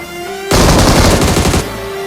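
Machine gun fire in the BGMI battle royale game, a loud sustained burst of rapid automatic shots lasting about a second after a brief quiet lead-in.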